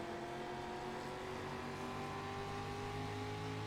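Onboard with a street stock race car at Stafford, the engine holds a loud, steady roar with tonal harmonics that drift slightly in pitch, continuous and close with no talk over it.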